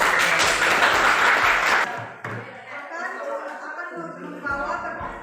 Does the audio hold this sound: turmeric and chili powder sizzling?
no